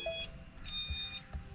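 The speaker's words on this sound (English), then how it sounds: "It'll go beep beep again." An FPV freestyle quadcopter's flight controller beeps on reboot: two high, clean electronic tones, the second longer, sounding close and alone.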